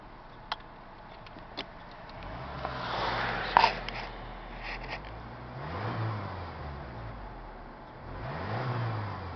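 A 1993 Ranger 2.3 pickup truck engine idling and revving in slow swells, with a few sharp clicks and a brief stumbling burst midway, fairly quiet and close.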